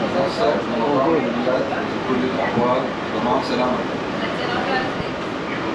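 Train riding on rails on a long-distance trip: a steady, fairly loud rumbling drone of the carriage continues throughout, with a person talking briefly over it.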